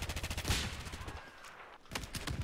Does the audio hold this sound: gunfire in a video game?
yes